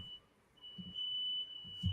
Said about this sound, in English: You got a fire alarm.